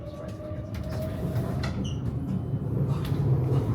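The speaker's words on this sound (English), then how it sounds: "At 15:37, the C8014 departed on time and accelerated rapidly out of Shenzhen Station." KCR train C8014 pulling out of Shenzhen Station and accelerating, a steady low rumble with wheel and carriage clatter and a few short knocks, heard from on board.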